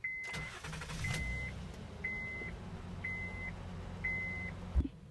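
A 2009 Honda Accord 3.5 V6 cranks over and settles into a steady low idle, with a chime repeating five times in regular intervals over the running engine.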